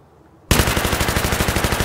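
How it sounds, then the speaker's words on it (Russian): Automatic weapon fire in the Battlefield video game, a sudden loud burst of rapid evenly spaced shots continuing without pause after a quiet start, close and dominant, with no talking. "Стреляю по танку впереди."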